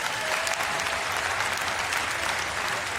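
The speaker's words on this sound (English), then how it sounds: "An applause for Max." Crowd applause for a player named Max at a FIBA 3x3 World Cup basketball event in Amsterdam, a dense, steady wash of clapping from a large audience throughout.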